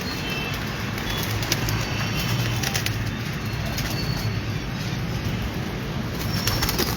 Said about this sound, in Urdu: یہ آپ کے پروازی کبوتر ہیں جی